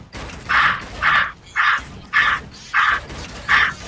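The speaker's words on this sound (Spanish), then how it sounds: "Es un loro." Six harsh, evenly spaced parrot squawks repeat at a steady rhythm, loud and close, each a short raspy call.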